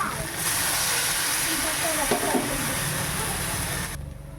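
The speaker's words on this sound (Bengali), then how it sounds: "এবার আমি জল দিয়ে দেবো।" Water poured into hot oil for a pond pangas fish curry sets off a loud, sustained hissing sizzle that holds for several seconds and then cuts off abruptly.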